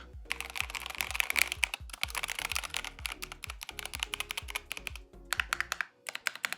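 Keys on a KiiBOOM Phantom 81 V2 mechanical keyboard clacking in a fast, steady stream of typing, close and crisp, with a few brief pauses between bursts.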